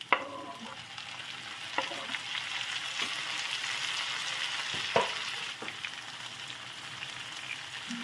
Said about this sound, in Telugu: టమాటాలు కూడా బాగా ఫ్రై అయ్యి స్మాష్ అయిపోయినట్టుగా స్మూత్గా అయిపోయే వరకు ఉంచుకోవాలన్నమాట